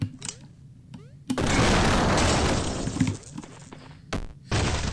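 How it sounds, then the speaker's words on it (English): A broad, rumbling explosion blast from the Super Fighters video game bursts out and decays over a couple of seconds, preceded by quick clicks and followed by a short second burst. "He died to explosion."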